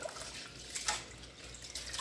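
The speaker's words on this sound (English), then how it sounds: "and you want to add water in a pan" Water poured into a pan of uncooked rice to rinse it, a steady close splashing and trickling of liquid that swells briefly in the middle, heard alone without any talking.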